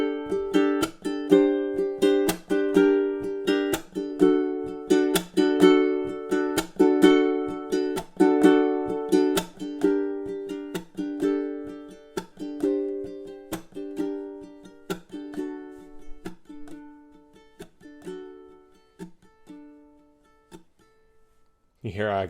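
A spooky strumming etude on ukulele, a passage repeated and played steadily softer so the even, rhythmic chords fade out toward the end, leaving near silence before a brief final sound.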